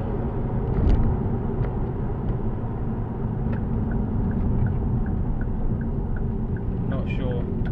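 A Ford Focus ST225 with a cold air intake and remapped engine drives on a road, its steady low engine drone and road rumble heard from inside the cabin, with a few faint clicks and a brief voice near the end.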